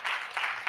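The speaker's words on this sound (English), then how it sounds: "Give a big round of applause." A short burst of audience applause at a festival quiz event, sounding as a few quick surges of clapping at moderate level.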